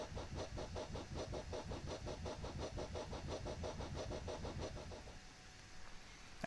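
A diesel train engine in Train Simulator 2018 on the Isle of Wight line throttles up, its rapid rhythmic chugging pulses loud and steady before easing off near the end, with a brief click at the close.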